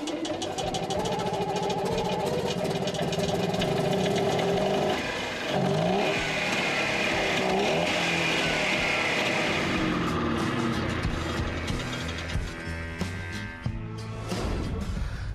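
A vintage Goliath F400 three-wheeler's 6-horsepower single-cylinder two-stroke engine runs close by, puttering and rattling unevenly at idle, with occasional revs and clatter.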